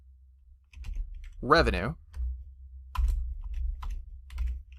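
Computer keyboard typing as a spreadsheet formula is entered, light, close key clicks, with a brief spoken word partway through.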